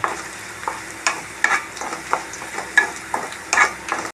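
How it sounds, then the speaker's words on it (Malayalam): Brinjal curry frying in a pan while being stirred, with a steady sizzle broken by repeated scraping strokes of a spoon about every half second, close and fairly loud, with no talk. "ഇതൊന്ന് ഫ്രൈ ആവട്ടെ."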